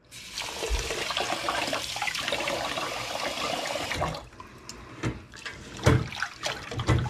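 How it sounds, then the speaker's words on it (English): Rice is washed in water in a pot before cooking for sweet rice with coconut milk: continuous sloshing and splashing, then separate swishes and splashes as the grains are rubbed, close and fairly loud. "and then I would wash my rice"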